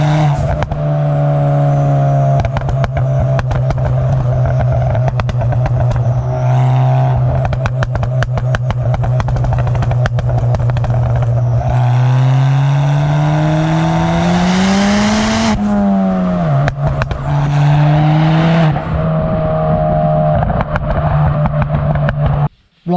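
Stage 3 tuned turbocharged Ford Fiesta engine revving loudly and close, a strong droning tone that climbs and falls through repeated pulls, with crackles and brief clatter between revs before it cuts off at the end.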